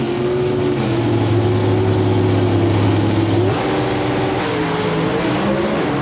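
Pro Stock drag racing cars hold a loud, sustained high-RPM rev with steady engine tones, then the pitch drops and shifts partway through, with no talk over it.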